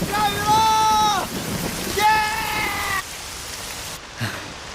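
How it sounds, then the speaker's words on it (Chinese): Rain falls in mountain countryside during a thunderstorm, a steady broadband hiss running under excited voices calling out, then continuing as a quieter wash after they stop. "下雨了，怎么办？"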